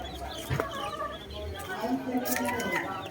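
Backyard chicks, fifteen being raised in a group, peep and chirp in a busy overlapping chorus close by, with someone talking over them.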